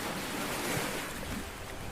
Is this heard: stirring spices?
no